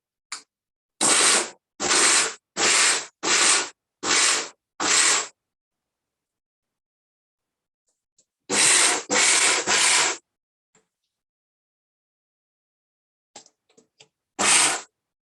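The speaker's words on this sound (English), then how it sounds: "Then in this we are going to add our ashwagandha powder, shatavari powder," Kitchen grinder blending ashwagandha powder, shatavari powder, dates and sesame seeds, running in a series of short, loud, evenly spaced pulses, then a second group of pulses and a final brief burst.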